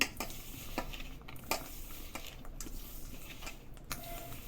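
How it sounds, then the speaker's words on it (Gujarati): Jaggery being stirred into a boiled dal mixture for Rajasthani dal bati, with soft scraping and clinks of a spoon against a pot repeating at close range in a quiet kitchen. "તેને બરાબર મિક્સ કરી નાખીએ"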